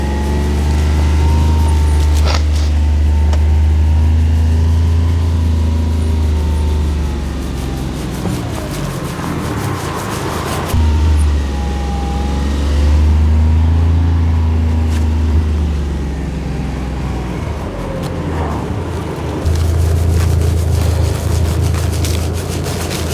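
A farm vehicle's engine drones loudly and close, with a heavy low rumble that rises and falls as it revs up in repeated surges.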